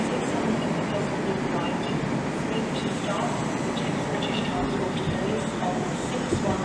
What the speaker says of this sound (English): the TfL rail service is now departing onto its next stop of Gideon Park